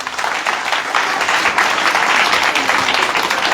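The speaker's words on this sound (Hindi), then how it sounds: "तालियां तो बजा दो।" An audience at a shelter home claps during a Mango Day gathering, a dense, continuous round of applause that stays loud and steady from start to finish.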